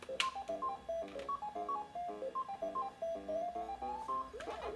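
Pac-Man game music plays from the built-in speakers of a 1993 Macintosh TV computer, a bright chiptune melody of quick, bouncy electronic beeps repeating in a steady pattern that ends in a rising warble.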